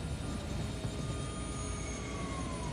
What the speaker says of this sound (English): Why is a helicopter landing here?